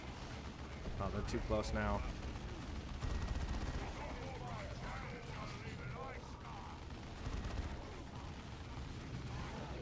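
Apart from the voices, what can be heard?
artillery barrage and gunfire in the video game Dawn of War 2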